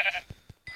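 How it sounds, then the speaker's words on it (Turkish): Sheep in a Minecraft-style survival game bleat in short clipped calls, one brief bleat followed by a few quick pulses, close and clear with no talk. "Kanka bir tane daha koyun buldum."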